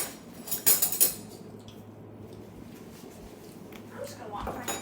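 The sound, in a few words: spoon taken from cutlery drawer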